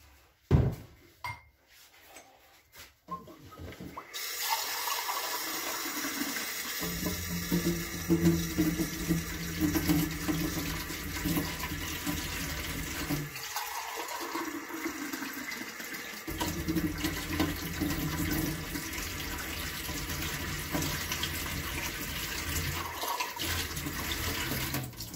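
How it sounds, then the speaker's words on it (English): Water running from a tap into a pot to top up a homemade sweet tomato relish mixture of sugar and vinegar, a steady pour broken by brief pauses, with kitchen clatter at the start. "now I'm just going to top it up with water."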